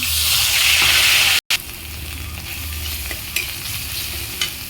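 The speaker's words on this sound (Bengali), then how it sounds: "এবার মাছের তেলে একটু তেল দিয়ে পেঁয়াজ বাটা" Onion paste sizzles loudly in leftover fish-frying oil, a dense, close crackle with stirring scrapes throughout, broken by a brief cut in the middle and no talking.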